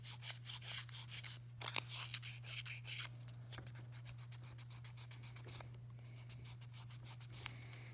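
Sandpaper rubbing around the inside of a metal ring by hand, a steady close scratchy rasping with repeated short strokes, over a constant low electrical hum.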